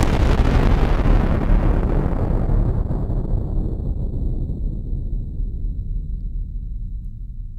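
Explosion factory patch on an Oberheim OB-8 analog synthesizer: a loud, noisy roaring blast with deep rumble that slowly decays over several seconds, high end fading first.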